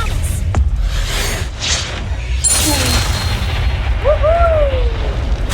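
An Expelliarmus spell is cast in Hogwarts Legacy: a loud, booming burst with a sharp whooshing crack, followed by rolling rumbles and bright whistling sweeps over steady game ambience.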